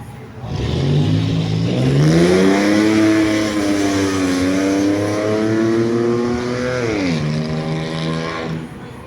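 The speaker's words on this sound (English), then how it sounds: "whoever was revving that motor there down Main Street" A car engine revs on the street, loud and close, its pitch climbing and holding through several smooth sweeps before dropping near the end, sustained for about eight seconds with no talk over it.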